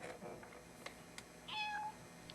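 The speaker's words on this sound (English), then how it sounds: "When did we get a cat?" A cat meows twice in a short, tonal cry, close and fairly clear, over a quiet indoor background with a few faint clicks.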